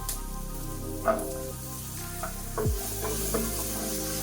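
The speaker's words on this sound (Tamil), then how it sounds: "வெங்காயம் நல்லா வதங்கணும், இன்னும் கொஞ்சம் எண்ணெய் விட்டுக்கலாம்" Onions sautéing in oil in a pan, a steady soft sizzle with a few clanks of a stirring utensil scattered through, no voices.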